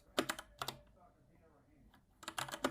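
Typing on a computer keyboard in quick clustered bursts of clicks, close and quiet, with a pause between the bursts.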